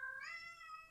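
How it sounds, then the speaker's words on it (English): A cat meows once in the background, a short, faint, rising and falling cry in an otherwise quiet room with no talking. "that's the cat in the background"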